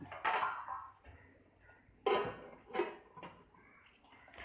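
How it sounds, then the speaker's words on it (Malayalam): Lid set on a pan of beetroot fry, a few sharp metallic clanks and clatters close by with quiet gaps between, no talking. "ഇനി നമുക്കിതൊന്ന് മീഡിയം ഫ്ലെയിമിൽ മൂടി വെച്ച് വേവിച്ചെടുക്കാം."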